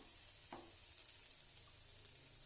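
Bitter gourd frying in a pan makes a steady, soft sizzle, with a faint scrape or two from stirring near the start and no talk.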